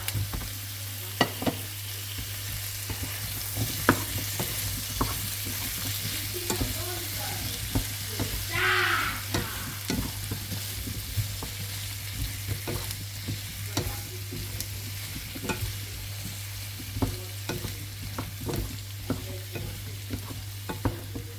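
Green capsicum sizzles in a pot as it is stirred through, making a steady frying hiss with repeated scraping and clacking stir strokes over a constant low hum, close and moderate in volume.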